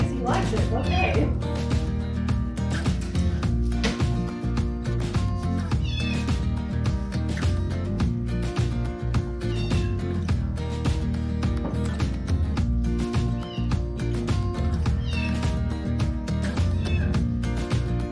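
Cat meowing during a rescue kitten photo session, with repeated meows mixed under loud background music and people talking.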